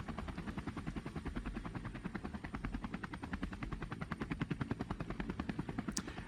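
Video game helicopter flies with a steady, pulsing rotor thump throughout, mixed with rapid rattling bursts of gunfire from the infantry combat.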